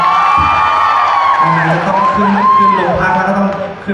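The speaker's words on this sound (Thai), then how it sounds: "ขอเสียงปรบมือให้กับสปิริตทางแรงกล้านะฮะ" A loud crowd at a children's concert cheering, whooping and shouting, with tonal voices and music woven through the steady roar.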